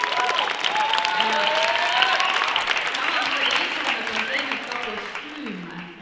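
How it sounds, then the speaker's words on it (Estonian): Audience applause at a 2022 dance education anniversary gala, a dense steady clapping from a full hall lasting the whole stretch and tapering slightly at the end, with some voices mixed in beneath. "Ja kui plaksutada."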